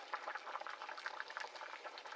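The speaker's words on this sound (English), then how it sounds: "As you can see, the sauce is boiling away." Sauce for party chicken with bacon boiling in a pot, a steady close bubbling and gentle popping that runs continuously and quietly on its own.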